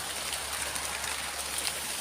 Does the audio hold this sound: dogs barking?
no